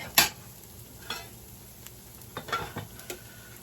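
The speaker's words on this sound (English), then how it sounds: "Now we're going to add in our mushrooms." Mushrooms tipped into a pan of caramelized onions, giving a sharp initial clatter followed by a low steady sizzle and a few soft scrapes of stirring, close and quiet, no talk.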